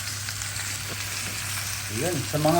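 Chicken tofu sisig frying in a hot pan gives a continuous close sizzle while being stirred, with brief speech breaking in near the end.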